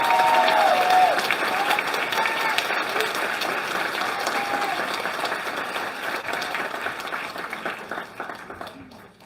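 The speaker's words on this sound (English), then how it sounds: "Give them a round of applause." A crowd applauds at a political campaign launch in Cambridge, Ontario, with a dense, sustained clapping that starts loud and slowly fades over about nine seconds.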